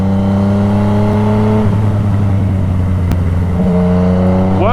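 A Yamaha FZ-09 motorcycle's 847cc inline three-cylinder engine revs loudly and steadily, its pitch dipping and rising again near the end, with no one talking.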